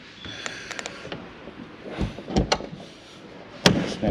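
Scattered mechanical clicks and knocks, then a sharp, loud snap near the end as a camper trailer door latch locks the door open; no talking.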